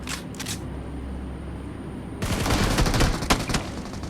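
Gunfire in the mobile battle royale game BGMI, a rapid burst of automatic shots starting midway over steady game background ambience, preceded by two faint short taps.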